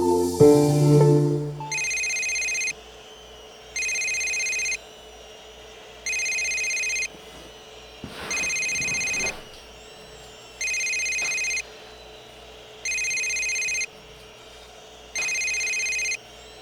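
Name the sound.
telephone ringing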